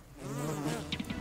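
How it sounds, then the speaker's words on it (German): Bee buzzing in the video game Don't Starve, a brief, close, droning hum that wavers in pitch and ends with a few short clicks. "Die Biene ist immer noch da."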